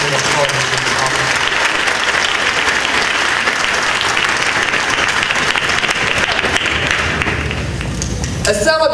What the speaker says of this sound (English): Please join me in applauding these officers.